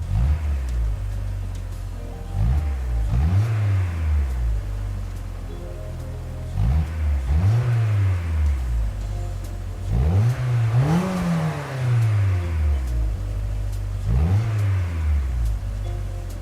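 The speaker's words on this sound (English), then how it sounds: "that lovely noise comes in the form of the little Renault Twingo here from 1993" A 1993 Renault Twingo's small engine in the video game Gran Turismo 7 revs up repeatedly in rising and falling bursts, close and loud, with pitch sweeping up each time before dropping back to idle.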